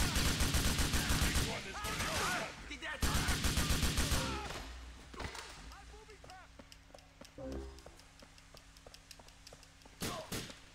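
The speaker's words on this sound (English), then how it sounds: "Alright, the shooting begins." Gunfire in a Grand Theft Auto IV shootout, loud bursts of rapid automatic fire for several seconds, then scattered single shots and thuds with voices talking in between.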